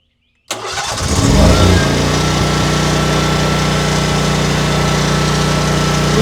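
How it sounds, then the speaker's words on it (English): A portable generator, about to be hooked to a house through a 30 amp cord, cranks and catches after a brief silence, its engine revving up for a second before settling into a loud, steady close-up running drone. "Let's crank up the generator."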